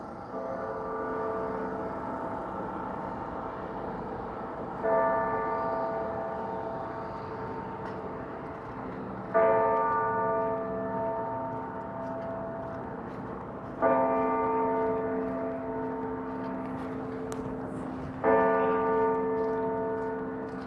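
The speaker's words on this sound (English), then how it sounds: "being out here listening to those bells chime" Church bells ring in downtown Toronto on a snowy day, striking five times at slow, even intervals. Each toll is loud and rings out into a long decaying hum over quiet street ambience.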